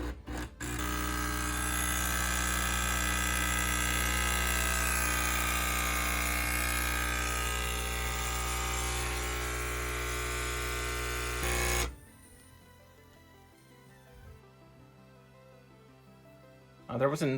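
A HiBREW H10B stainless steel espresso machine runs loud and steady right after its button is pressed, with a constant pump hum and buzz for about eleven seconds before it cuts off into near quiet.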